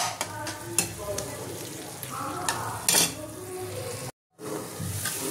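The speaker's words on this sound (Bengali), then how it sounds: "এটা আমি একটু কষিয়ে নেব।" Shakshuka spice mix with chili flakes and paprika sizzles in a pan while a spoon scrapes and clinks against the metal, a close, busy frying sound with a brief dropout near the end.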